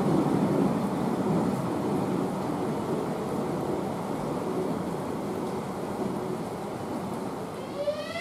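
Heavy rain pours down steadily at a railway in Kufstein, a dense, loud wash of noise with a low rumbling undertone throughout and a faint rising tone near the end.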